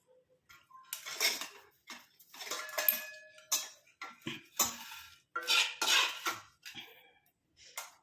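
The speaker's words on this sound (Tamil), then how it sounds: "இது எல்லாத்தையும் நம்ம வடிகட்டி எடுத்துக்கலாம்" A homemade herbal hair dye mixture is strained and pressed through a sieve, giving close, irregular metallic scrapes, clinks and wet squelches in short bursts separated by brief quiet gaps.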